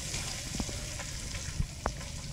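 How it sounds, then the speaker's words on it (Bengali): Chicken pieces fry in hot oil with a continuous crackling sizzle, punctuated by a few sharp pops and clinks, loud and close, with no talking. "তেল গরম হয়ে গেছে, এখন চিকেনগুলোকে ভেজে নেব।"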